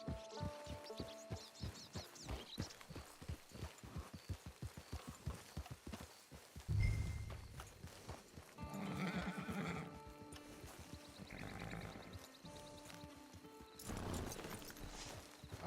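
A horse in the video game Red Dead Redemption clip-clops along with rhythmic hoofbeats, then lets out a loud whinny mid-clip, followed by snorting and further neighing over a quiet game score.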